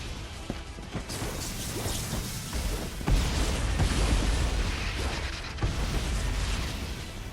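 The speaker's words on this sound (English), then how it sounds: "Kaboom! Explosions! I always loved explosions!" Loud rumbling video game explosions and crashes repeat over several seconds, with sharp impacts and clattering debris in a continuous destructive din.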